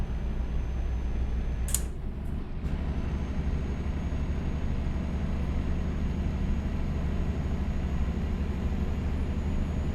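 Steady low truck engine drone from a trucking simulator game, a constant rumble with fan-like broadband noise throughout, plus a brief higher hiss or click near the start.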